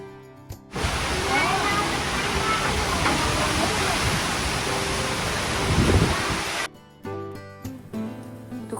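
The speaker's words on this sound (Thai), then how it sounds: "ฝนตกหนักลมแรงมากทุกคน" Heavy rain with strong wind roars in a dense, constant hiss, pouring hard for several seconds before stopping abruptly, followed by quieter background sounds.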